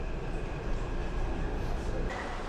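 A metro train running on an elevated track in Taiwan, a loud continuous rumble and roar of the carriage in motion, with steady wheel and rail noise heard from inside.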